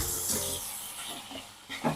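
Garlic, ginger and curry leaf paste tempering in hot oil in a kadhai gives a soft, steady hiss and sizzle, fairly quiet, with a short louder crackle near the end and no talk.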